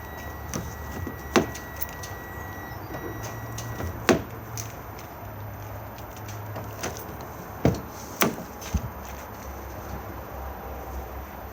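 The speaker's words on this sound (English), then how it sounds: "If we now just open up the rear doors, let me just open the van." Rear doors of an Auto-Sleeper Symbol campervan opened outdoors: a few sharp clicks and clunks with a light key-like jangle, spaced apart over a low steady background rumble.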